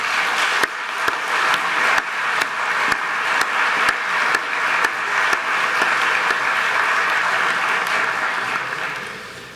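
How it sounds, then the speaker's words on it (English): Audience applause at a 9th grade patch ceremony, a steady sustained wash of clapping with a few sharp individual claps standing out, fading slightly at the end. "Let's give them a round of applause, please."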